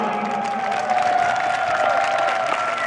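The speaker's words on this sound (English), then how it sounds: "One last big round of applause for Marcin." Steady applause from a large crowd at a basketball Polish Heritage Night, continuous and fairly loud, with a faint sustained tone running underneath.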